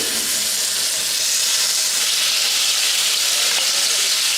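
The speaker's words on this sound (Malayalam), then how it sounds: "അതിലേക്ക് ചിക്കൻ ഗ്രില്ല് ചെയ്യാൻ വെക്കുകയാണ്." Chicken pieces sizzling in hot oil and butter for butter chicken masala, a steady, loud, continuous hiss and crackle with no pauses throughout.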